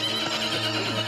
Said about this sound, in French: Il monte Timberland, un bronco noir que le tirage au sort lui a attribué